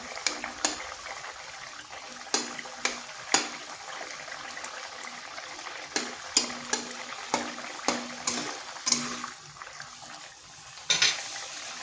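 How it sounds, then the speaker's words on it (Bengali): Boiled potatoes being mashed in a pot of vegetarian daler bora curry, a series of sharp spoon taps and knocks against the pot over a soft simmering hiss, close and steady, without talk. "এর মধ্যে দু একটা আলুকে এইভাবে ম্যাশ করে দিচ্ছি"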